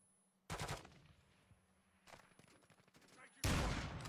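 Automatic gunfire in the video game Apex Legends during a ranked match, with sharp, rapid bursts arriving in three loud volleys separated by quieter stretches.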